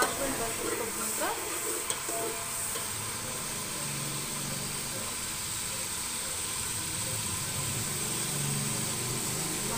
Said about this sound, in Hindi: अदरक लहसुन ये भून रहा है